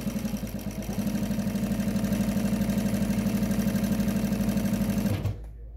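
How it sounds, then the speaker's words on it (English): A JUKI DNU-1541S industrial sewing machine with a folder attachment stitches fast, a loud rapid needle rattle running steadily for about five seconds before stopping abruptly. "you can go as fast as you want."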